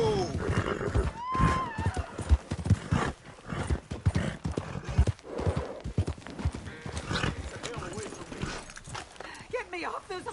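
Rapid hoofbeats clatter along with a horse's whinny in the video game Red Dead Redemption 2, amid busy game sound effects and a voice talking over it.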